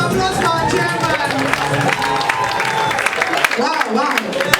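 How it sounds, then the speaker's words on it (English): An audience at a Wema Bank event claps and cheers for the chairman, a dense, continuous burst of applause mixed with shouts and crowd voices. "A round of applause for our chairman."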